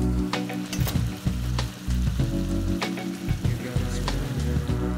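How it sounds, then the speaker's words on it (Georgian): Tomato sauce made from tomato paste, water and a whole tomato bubbles and sizzles steadily in a pan, close up, with irregular pops and crackles over a continuous frying hiss. "დაახლოებით 3 წუთი დუღდა соуსი"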